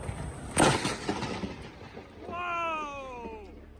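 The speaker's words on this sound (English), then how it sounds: "According to Gareth, his son was standing where the lightning struck only moments before." A lightning strike lands right overhead with a sharp close crack followed by rumbling thunder, while a voice speaks afterward.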